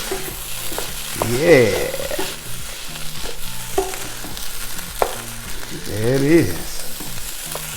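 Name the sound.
shrimp fried rice stir-frying with green onions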